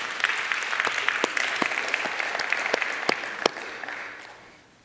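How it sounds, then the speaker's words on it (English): Church congregation clapping, a thin scattering of distinct, fairly close hand claps over a soft bed of applause that tapers off toward the end. "And if you want to clap, you can."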